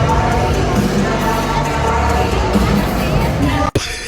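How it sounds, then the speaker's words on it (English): A crowd of children at a K-pop tribute concert produces a loud, continuous hubbub of shouting and cheering, with amplified music underneath, cut off abruptly near the end. "And the crowd goes mild."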